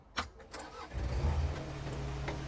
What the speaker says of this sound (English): Okay, now let's start the engine.